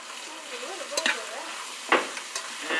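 Crab fried rice sizzling in a large pot while a utensil stirs it, giving a soft, crackling fry with a few sharp scraping strokes, close and fairly quiet, with no talking.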